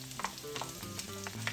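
Onions sizzle and crackle in about a tablespoon and a half of leftover bacon grease in a pan, a steady, fairly quiet frying hiss with light stirring noises.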